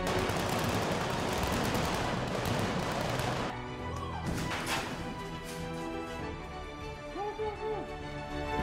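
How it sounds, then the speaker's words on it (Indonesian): Film action scene from Black Panther: dense bursts of gunfire and explosive crashes fill the first few seconds, then give way to a quieter stretch with scattered impacts and brief voices. "Kemudian adegan tembak-tembakan dan ledakan."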